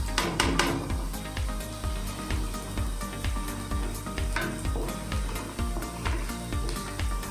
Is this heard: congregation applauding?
no